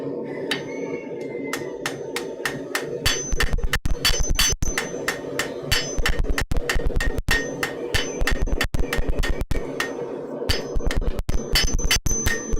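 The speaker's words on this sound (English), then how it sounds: "How many times am I going to hit the anvil trying to make sure I'm just on the edge of the piece?" Hammer blows ring out on an anvil in a smithy as hot metal is shaped for scrollwork, a long run of sharp, closely spaced metallic strikes in steady bursts, loud and close with no talk.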